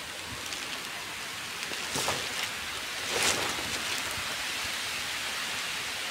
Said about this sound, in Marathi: पाऊस लई जोरात पडाला आहे.